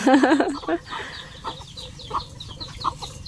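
Farm chickens cluck and squawk nearby in short bursts, a loud cackle at the start followed by scattered softer clucks, with people talking over them.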